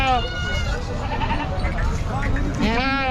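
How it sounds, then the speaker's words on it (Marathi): Katewadi goats bleat repeatedly at a busy goat and sheep market in Maharashtra, their wavering cries rising over steady crowd chatter and a voice talking nearby. "इकडे काटेवाडी शेळ्या आहेत."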